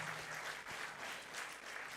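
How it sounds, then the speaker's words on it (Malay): Ceremony audience applauding industry partners at a TVET skills event opening, a steady, moderately distant wash of clapping hands that holds evenly for a couple of seconds. "So kita berikan tepukan pada industri yang sentiasa membantu"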